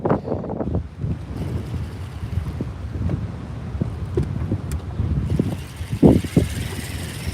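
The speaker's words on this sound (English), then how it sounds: "this wind is kind of brutal today, guys" Strong wind buffets the microphone outdoors on a bank-fishing trip, giving a loud, continuous low rumble with gusty surges and swells. No one speaks over it.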